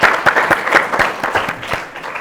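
A studio audience of children and guests at a televised quiz claps together in a brisk, even rhythm of roughly four beats a second, loud and close, with no talking.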